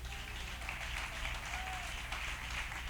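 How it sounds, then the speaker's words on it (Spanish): A church congregation claps during a sermon, a moderate, fairly distant wash of applause over a low hum, steady across the whole stretch without speech. "Denle un aplauso al Señor."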